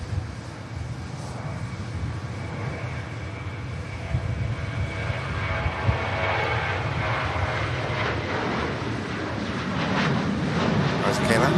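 A KLM airliner takes off at Manchester Airport, its jet engines a broad, steady roar that swells toward the end of the climb-out, heard from a distance with someone talking over it.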